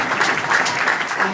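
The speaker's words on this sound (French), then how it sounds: "Acclamez Jésus-Christ" A church congregation applauds and acclaims Jesus Christ during a French-language sermon, a sustained bright clapping that fills the room with steady intensity.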